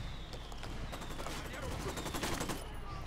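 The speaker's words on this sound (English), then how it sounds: "I called Pacatari for some mortar fire." Mortar strikes called in during a firefight in the video game Ghost Recon Wildlands, a burst of rapid crackling blasts and thumps over a few seconds, with game sounds and a voice mixed in.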